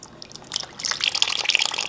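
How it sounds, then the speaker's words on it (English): Filtered water poured into the cooling system of a Kawasaki KLX300R dirt bike and draining out, a steady trickling, splashing flow that grows louder partway through, close by with no talking. "we're just going to pour in the filtered water and let it drain through the system to kind of flush it out"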